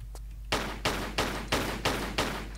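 Six loud, evenly spaced gunshots from explosive ammo fired at a padlock in Tomb Raider IV: The Last Revelation, each sharp crack followed by a short decaying tail.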